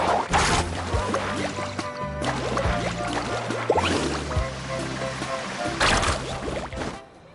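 Ocean waves rush and splash as a character rides and carves across the water in the video game Genshin Impact, a steady watery surge with bursts of spray, under game music and speech.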